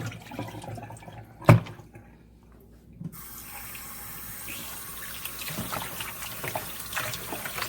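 Kitchen tap water running as raw chicken is rinsed in a sink, a single sharp knock followed by a steady, moderate splashing stream that continues to the end.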